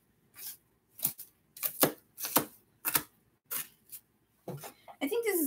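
Onions are chopped by hand with a knife in a series of separate, crisp cuts against a board, irregularly spaced and close, and someone speaks near the end.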